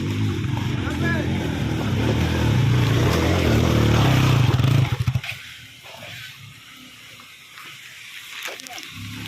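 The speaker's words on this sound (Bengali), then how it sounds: "এই যে বাইক নিয়ে নামা আর ওঠা, সত্যি এখানকার যারা বাইকার তারা অন্য লেভেলের ড্রাইভার" Motorbikes climb a steep hill road on Parasnath Hill in Jharkhand, their engines droning loud and close for several seconds before fading into quieter road ambience, with people talking throughout.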